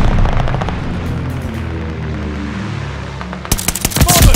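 A friendly bombing run in Call of Duty: Vanguard sets off a dull, rumbling wash of distant blasts, then a loud burst of rapid gunfire and close booms strikes near the end.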